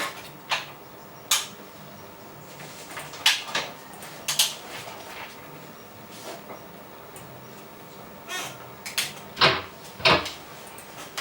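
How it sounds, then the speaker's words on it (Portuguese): Door-slam sound sample used as a percussion element in a studio music production session, heard as sharp isolated knocks and thuds at irregular intervals, some louder than others, over quiet room noise. "Isso é bater porta."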